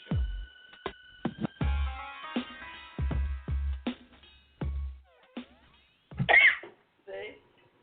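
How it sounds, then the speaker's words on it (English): A woman with whooping cough coughs in sharp, repeated bursts, some clustered and some spaced apart, with throat-clearing sounds and talk mixed in on a late-night talk show. "She's got the whooping cough"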